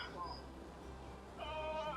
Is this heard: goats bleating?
yes